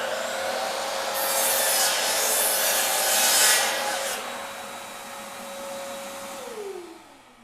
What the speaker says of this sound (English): Put the vacuum on.